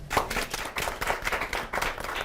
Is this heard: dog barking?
no